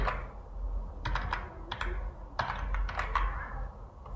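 Close keyboard typing in quick bursts of crisp key taps with short pauses between, entering text into a spreadsheet, with no talking.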